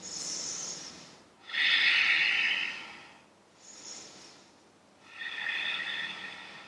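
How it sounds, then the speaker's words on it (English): Deep breathing during a seated yoga twist, three slow rounds of audible inhales and exhales, breathy and close, with a pause between each breath and no talk. "When we breathe here, 3 rounds of breath."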